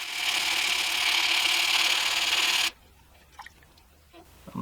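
A steel knife blade is hand sanded in a steady scraping rub for almost three seconds, then stops, leaving only faint scattered handling taps.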